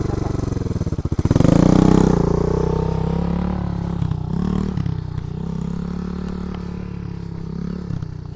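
A dirtbike engine revs up and settles into a steady idle-like drone as the rider shifts into first gear, with a sharp surge near the start, close and fairly loud, faint voices occasionally in the background.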